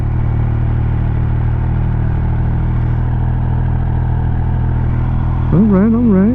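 A Triumph Speed Triple 1200 motorcycle being ridden, a steady loud engine drone under strong wind rumble, with a rising rev swell near the end.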